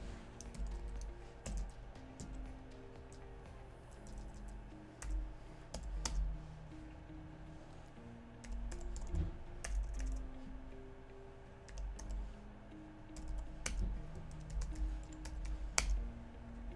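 Keystrokes on a computer keyboard tap out in scattered bursts, moderately close, over a steady low hum during a security lab session.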